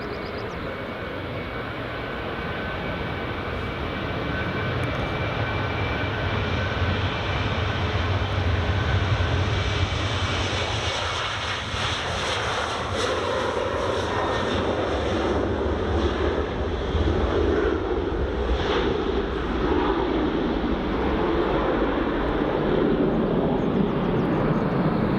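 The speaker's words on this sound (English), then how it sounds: "Right, here goes the Ryanair." A Ryanair airliner rolls along runway 24 at Edinburgh Airport, its engine roar steady and broad for the whole stretch with a swell midway, mixed with gusting wind noise on the microphone and no talk.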